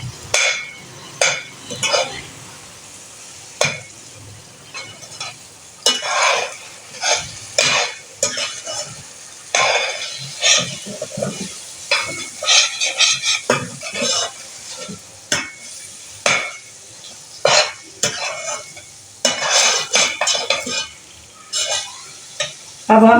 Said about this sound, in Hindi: अब इसमें मैं डालूंगी लहसुन अदरक का पेस्ट, इसको भी थोड़ा सा पका लेंगे